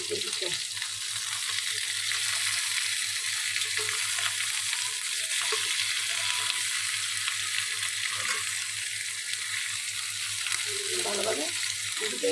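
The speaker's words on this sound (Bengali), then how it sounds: "চিকেনগুলো এক পাশ ভাজা হয়ে গিয়েছে। এখন এটাকে উল্টিয়ে ভালোভাবে ভাজার জন্য" Chicken pieces frying in oil for Arabian chicken kabsa, a constant quiet sizzle and crackle with occasional faint clinks of stirring or turning.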